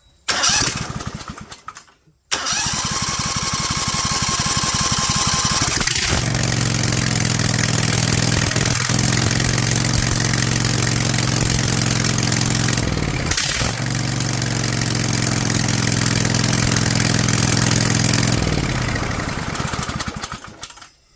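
A DuroMax XP23HPE portable generator engine cranks, catches and roars to life, then runs loudly at a steady pace with brief dips before cutting off near the end.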